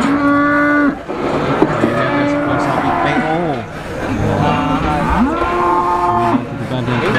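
Giant sacrificial cattle moo repeatedly during weighing at a livestock scale, several long, loud, drawn-out lows rising and falling over a constant noisy background of the pen.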